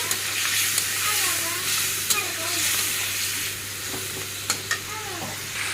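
A fish head is fried in a pan with chilli, cumin, coriander and turmeric powders, making a steady, close sizzle with occasional sharp crackles and soft stirring scrapes.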